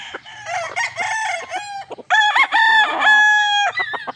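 A brown red gamefowl rooster on a game farm crows loudly and close, giving several strained, drawn-out cock-a-doodle-doo calls with brief clucks between them.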